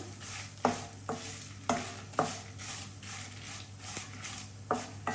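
A spatula stirs fenugreek seeds, cumin and coriander roasting in a pan for gongura chutney, scraping in a steady rhythm about twice a second over a soft sizzle.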